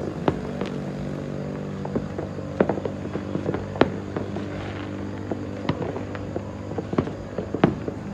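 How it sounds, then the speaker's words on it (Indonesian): Distant New Year fireworks, scattered sharp pops and cracks at irregular intervals over a low steady hum, faint and far away, with no talking. "Di belakang udah pada nyalain kembang api."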